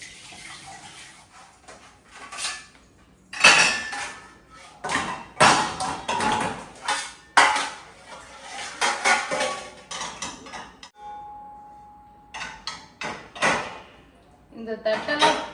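Dishes and pans clatter and clink in bursts with running water splashing in between, close by and irregular.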